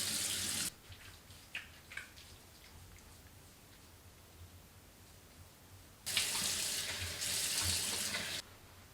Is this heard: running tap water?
yes